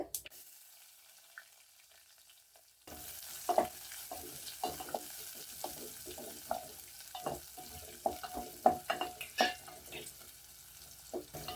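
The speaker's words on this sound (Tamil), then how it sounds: "வெங்காயம் நல்லா கொஞ்சம் வதங்கட்டும்" Finely chopped small onions sizzle softly in a pan while a utensil stirs and scrapes, with occasional light clinks against the pan.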